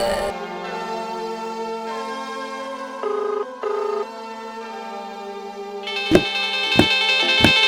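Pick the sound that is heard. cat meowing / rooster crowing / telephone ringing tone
telephone ringing tone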